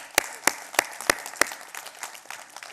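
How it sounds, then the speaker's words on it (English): A few loud, distinct hand claps at an evenly spaced rhythm, followed by softer scattered clapping from a small audience at a Mumbai stock-market seminar, close and brief. "Big applause to each one of you."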